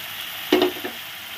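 Spice masala frying in a pan for a vegetarian dhokar dalna, with a steady sizzle underneath and one brief scrape of stirring near the start, heard close and without voices.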